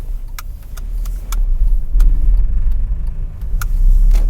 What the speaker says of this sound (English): Let's move on to a busy road now. We're in a busier area now.